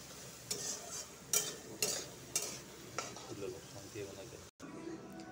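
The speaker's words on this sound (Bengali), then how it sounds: "ভালো করে ভাজবো" Pumpkin frying with onion, salt and turmeric in a pan, a soft sizzle broken by several sharp spatula scrapes at irregular intervals, close and fairly quiet, ending with a brief cut to silence.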